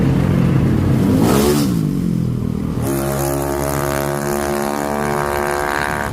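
A Yamaha Mio Sporty scooter engine revs on a road test, one rising rev-up and then a loud, steady high-pitched drone that carries on close by with no talking.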